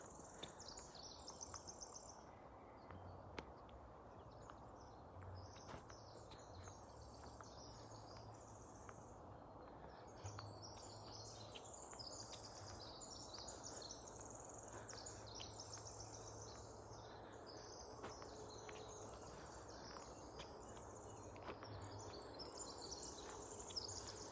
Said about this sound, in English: I'm going to be quiet for a second here so you can hear the birds.